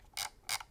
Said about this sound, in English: Scroll wheel.